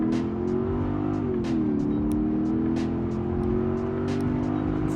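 Mercedes CLK500 V8 engine heard from inside while driving on a UK road, a steady deep drone that briefly dips in pitch and climbs again, continuous and fairly loud with road noise and no talk.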